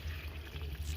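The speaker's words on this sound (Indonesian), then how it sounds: "Ini kalau kocor dari air keran langsung ya teman-teman." Tap water pours straight from a faucet onto potted orchid plants, a continuous soft splashing flow at low level with no talk.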